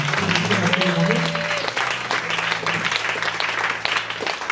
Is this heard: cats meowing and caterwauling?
no